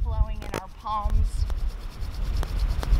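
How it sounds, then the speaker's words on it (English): Palms rub briskly together during a closing qigong exercise, a steady close-up hiss of skin on skin lasting a few seconds, with a brief voice at the start. "let's rub our hands together, getting that fire flowing in our palms"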